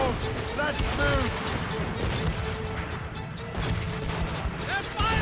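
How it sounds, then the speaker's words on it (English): Ship cannons fire in the Assassin's Creed Rogue video game, heavy booms scattered through the clip among crashing water and battle noise, with shouted voices over them. "They're firing, sir! Keep out from cannon range!"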